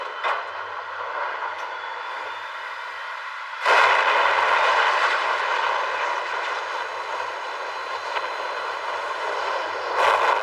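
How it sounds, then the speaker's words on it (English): A fighter jet's engine roars on takeoff, a steady loud rushing noise that jumps sharply in intensity partway through and then holds. "Burning Alpha, you're authorized for takeoff."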